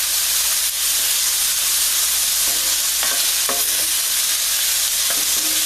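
Salmon cooking in a hot pan, a loud, continuous close-up sizzle and hiss with a few clinks and scrapes of stirring.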